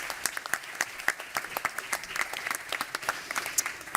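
An audience applauding after a panel talk on malaria vaccines, a steady patter of many hands clapping at moderate level, sustained throughout.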